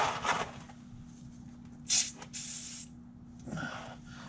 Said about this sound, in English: So let me spray some stuff on it here.